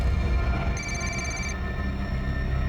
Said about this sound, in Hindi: घंटी की आवाज आ रही है अंदर से।